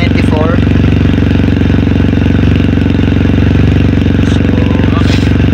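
A motorcycle fitted with an Akrapovic muffler idles steadily at around 2500 RPM, a loud, close, unbroken engine drone with a deep pulsing throb that holds constant throughout.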